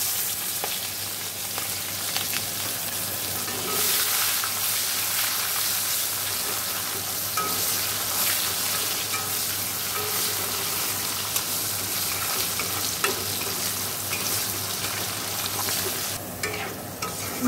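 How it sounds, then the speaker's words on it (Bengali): Chopped onion sizzles steadily in hot oil with whole garam masala, dried red chillies and bay leaves, stirred in a pan for a Bengali jackfruit-and-prawn curry; a constant close frying hiss with soft scraping, no talking. "দেখো পেঁয়াজটা একটু ভেজে আমি মশলাটা দিয়ে দিয়েছি"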